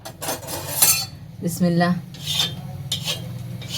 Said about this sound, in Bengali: এরা এখন আমি পাটায় ভাত মাখছি।